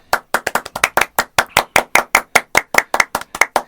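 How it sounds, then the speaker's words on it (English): A small group gives brief, sparse clapping after a joke, a short run of distinct, separate hand claps at a steady pace, close and fairly loud with no talking. "And a little bit of clapping for the Happy Days joke."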